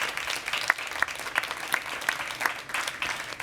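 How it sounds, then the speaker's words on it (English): Conference audience at an InnoTribe FinTech hubs session applauding the panelists, a moderately loud, steady patter of many hands with a few sharper individual claps standing out in a regular rhythm. "So a warm round of applause for all of our panelists for all their contributions."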